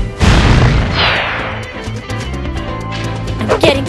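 A Fire Sling attack in Arc the Lad: Twilight of the Spirits, opening with a loud booming blast and then a sweeping whoosh with crackling, popping bursts that trail off over a few seconds.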